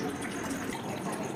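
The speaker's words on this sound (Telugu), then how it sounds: "చివరిగా నీళ్ళతో బిందెని క్లీన్ చేసాం" Water splashes and gushes steadily while a copper water pot is rinsed clean, a continuous close, broadband pouring sound with no talk.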